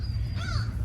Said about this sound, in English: Actually, I hear a bird right now, but I don't see it.